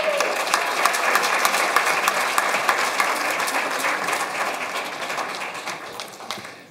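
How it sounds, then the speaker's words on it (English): An audience at a conference on visual impairment and employment gives a warm round of applause for volunteers, sustained dense clapping throughout that gradually tapers off toward the end. "thank you for that warm round of applause for our wonderful volunteers"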